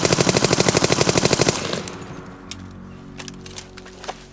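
SA-80 rifle firing blanks, a rapid burst of about fifteen sharp, loud shots in quick regular succession, then silence with a few faint clicks and rattles afterward.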